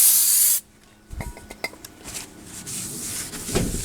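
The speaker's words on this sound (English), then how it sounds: "the new rotors are usually packed in some oil, so I just wipe this off with some brake clean" Brake cleaner sprayed onto new front brake rotors, packed in oil, on a 2011 Honda Pilot: one loud, steady hiss lasting about half a second, followed by quieter rubbing and light metallic handling sounds.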